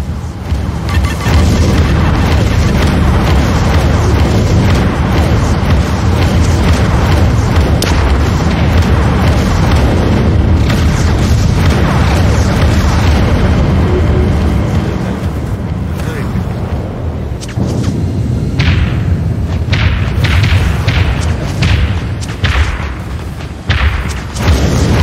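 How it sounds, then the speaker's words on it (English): Booming missile explosions in the space combat game Dreadnought rumble continuously, with loud low-end bursts and crackling debris, and a voice speaking over the action. "Enemy missiles incoming, Captain"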